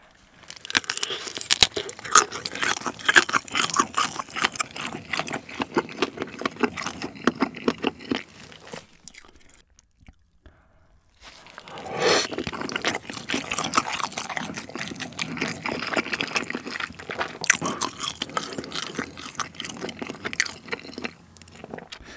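Someone eating gamjatang, a Korean pork bone potato soup with shrimp, up close with loud wet chewing, crunching and slurping, pausing briefly to near silence before the dense chewing resumes.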